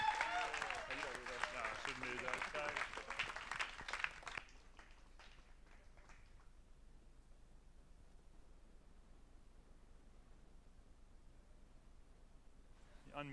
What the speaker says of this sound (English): I love that you applaud